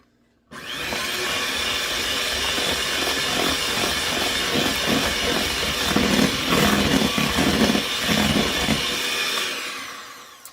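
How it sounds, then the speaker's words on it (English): Electric hand mixer whirring steadily through cookie dough for espresso chocolate chip cookies, a continuous close buzz that starts abruptly and runs unbroken for about ten seconds, with slight rattling variations as the beaters work. "we are going to give this a quick little mix as well with the hand mixer"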